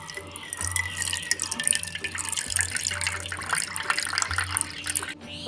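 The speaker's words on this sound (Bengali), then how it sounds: "এখন দেড়শো মিলির মতন এখানে পানি দেবো" Water pours steadily into a container with sugar in it, a continuous splashing rush with a low hum beneath.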